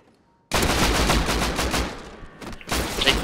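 Rapid automatic gunfire in the Rust survival game during a clan raid, starting abruptly after a near-silent opening and rattling on in dense, loud bursts with a brief lull before another volley.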